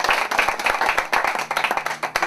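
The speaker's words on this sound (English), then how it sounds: "just to give them a big round of applause" Audience at a panel discussion clapping for the writers of a script, a lively run of distinct close handclaps with a steady irregular rhythm, loud and unaccompanied by talk.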